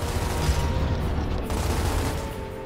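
Gears of War gunfire, a dense continuous rattle of rapid shots with booming low end, loud and steady throughout, easing slightly toward the end.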